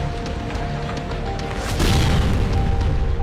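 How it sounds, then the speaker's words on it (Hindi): A heavy bomb blast in Gaza lands as a deep booming burst partway through, following a low rumbling background and leaving a sustained roar after the hit. "तभी धमाकों की आवाज से दहशत मच गई।"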